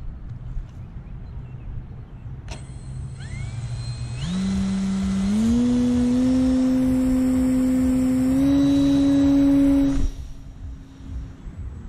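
An E-flite Night Radian RC glider's electric motor spins up to full throttle, a smooth rising whine that steps higher in pitch and holds steady, loud and close, for several seconds before cutting off.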